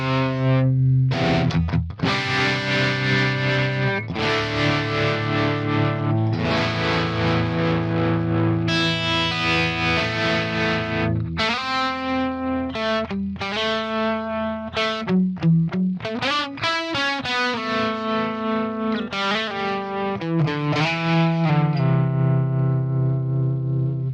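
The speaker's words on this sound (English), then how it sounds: "Let's crank it a little bit since we still got the tremolo going on." Electric guitar played through an Axe Fx III modeling a Swart Atomic Space Tone amp, cranked into distortion with tremolo pulsing, sustained chords and single notes loud and continuous without any voice.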